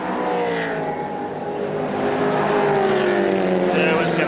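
Class C and D production race cars at Queensland Raceway scream past in a pack, their engines whining and shifting in overlapping revving tones at moderate distance, with commentary running over them.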